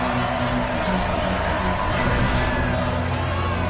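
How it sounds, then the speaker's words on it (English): A crowd applauds and cheers in a dense, continuous wash of clapping and voices that holds at a constant loud level throughout. "Everyone, warm round of applause for Daryl Isotope."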